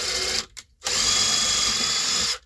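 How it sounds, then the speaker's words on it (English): A power drill boring holes, a loud high whine that stops briefly with a couple of short bursts, then runs steadily again before cutting off. "Let's get us some holes drilled in this thing."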